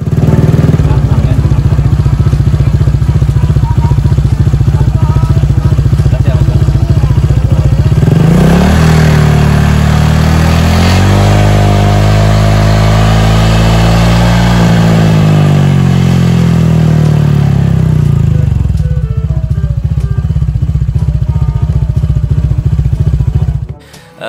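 A modified Honda Vario scooter with an aftermarket exhaust idles with a throaty burble, then revs up sharply several times in a rising and falling roar before settling back to idle, loud and close.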